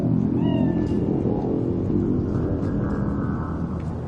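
A cat in Cyberpunk 2077 meows once, close and clear, with a rising then falling tone, over a constant low ambient rumble with no speech.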